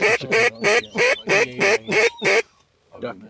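Duck hunter's call mimicking a sick duck, rattling off about eight rapid, loud, nasal quacks in a steady rhythm, then a brief pause and one more quack, close and clear.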